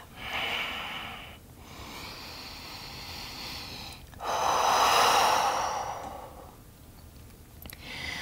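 Slow, deep breathing during a gentle yoga flow, with long audible inhales and exhales through the nose, the loudest breath swelling in the middle. Close and alone, with no talking.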